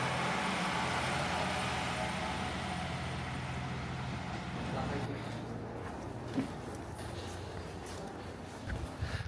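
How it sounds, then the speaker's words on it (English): A Kiha 120 diesel railcar idles at a quiet, little-used station before departing, its engine a steady, loud rumble that holds evenly throughout with a few faint knocks near the end. "loudly sound is the diesel engine of a Kiha 120 preparing to leave again."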